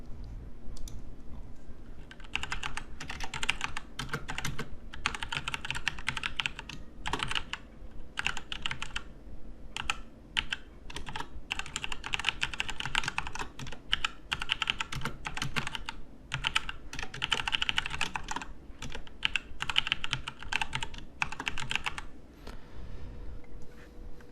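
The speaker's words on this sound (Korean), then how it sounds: "이거 타이핑 하는 게 너무 힘들어 보이죠?" Steady typing on a computer keyboard clatters continuously up close while writing code, with brief pauses between bursts of keystrokes and no voices.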